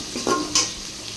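Onion frying with spices in a pan makes a soft sizzle broken by a few sharp scrapes and clinks of a spoon stirring against the metal. It is close and short, and no one speaks.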